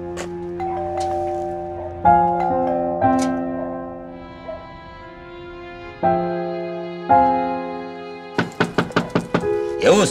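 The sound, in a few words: knocking on a door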